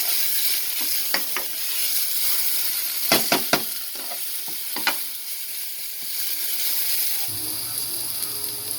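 Onions frying in a pan for an Indian chana masala, a steady sizzle broken by sharp clinks and scrapes of a spoon stirring them, loudest in a quick cluster midway, with no talking.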